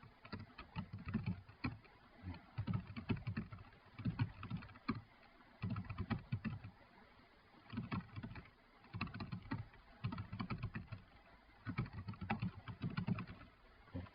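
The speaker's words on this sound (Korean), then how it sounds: "키보드에 쉼표를 누르면 이렇게 입력이 됩니다" Computer keyboard typing in bursts of rapid clicks separated by short pauses, fairly close and moderately loud, with no voices.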